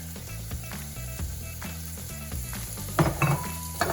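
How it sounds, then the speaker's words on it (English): Rosemary, about two teaspoons, stirred into a sizzling pan, with steady frying crackle under a repeating clink of spoon against the pan and a louder scrape and rattle near the end. "Give a little shaky shake, a little stir."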